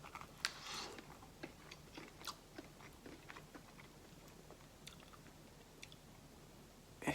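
Quiet, close chewing of a bite of Domino's pizza, with soft scattered crunches, squishes and mouth clicks spread over several seconds and no talk.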